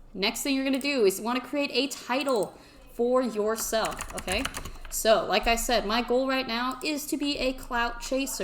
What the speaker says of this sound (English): Also, yes, you will be hearing the clacking of my keyboard.